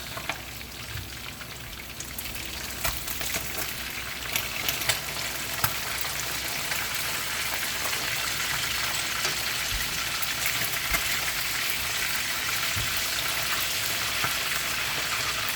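Fish fries in hot oil in a pan, a continuous crackling sizzle with scattered sharp pops and a few louder clicks as the pieces are turned, steady throughout with no voices.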